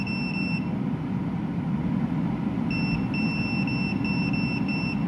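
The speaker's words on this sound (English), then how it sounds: "Love the beep." A digital temperature controller beeps in a quick series of short, sharp electronic tones while a low steady hum continues underneath, the beeps pausing briefly before resuming in a rapid cluster.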